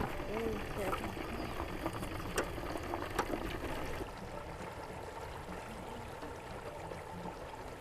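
A Thanksgiving turkey deep frying in a pot of hot oil gives a steady, dense bubbling roar that runs the whole time, slightly quieter in the second half, with a couple of sharp pops early on.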